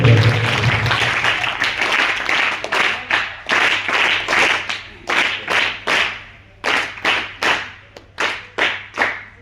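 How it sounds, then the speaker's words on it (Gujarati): Students and teachers at a school music camp clap together in welcome, starting as dense applause and then settling into a run of loud, evenly spaced unison claps in rhythmic groups, close and reverberant. "સર્વનું ફરીવાર આપણે તાળીઓથી સ્વાગત કરીશું"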